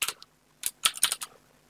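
Quick bursts of crisp computer keyboard clicks come in irregular clusters of keystrokes with short pauses between them, close and alone.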